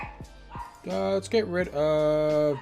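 Dogs barking and yipping in the background of a game session, several sharp barks early on, then mixed with someone talking over them.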